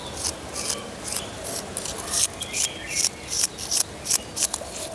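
Hands rub and crumple papery bougainvillea (paper flower) blooms in a garden, making a dry, crinkly rustle in repeated rhythmic bursts, close and fairly loud, with no talking.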